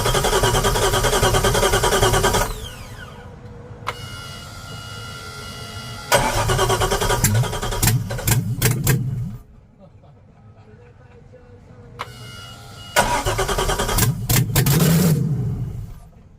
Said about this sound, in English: We're just gonna fire it off and see what it sounds like.